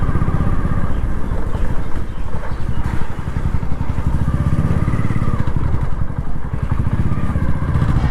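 A motorcycle engine chugs steadily, its rapid low-pitched pulses rising slightly as the throttle is blipped, close and loud with no talk.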